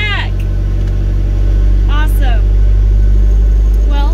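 A repaired Isuzu Trooper engine runs at a steady, loud idle, with its constant low hum filling the whole stretch while people talk and cheer over it.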